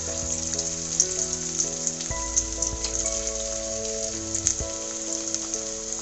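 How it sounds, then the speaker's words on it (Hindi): Aloo tikki patties deep frying in hot oil in a kadai on a gas stove, a steady close crackling sizzle with scattered popping bursts throughout, no talking. "अब हमने अपनी टिक्कियों को एक एक करके इसमें डीप फ्राई करेंगे।"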